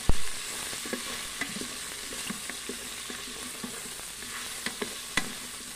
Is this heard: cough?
no